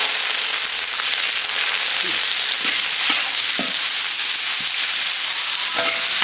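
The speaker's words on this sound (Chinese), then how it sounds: "把油炒出来" Ginger stir-fries in hot rapeseed oil in a pan over a fierce flame, a loud continuous sizzle with scattered crackles and scraping stirs, nearly free of talk.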